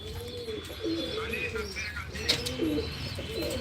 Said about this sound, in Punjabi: ਇਸ ਛੱਤ ਦੇ ਕਬੂਤਰ ਉੱਡ ਰਹੇ ਨੇ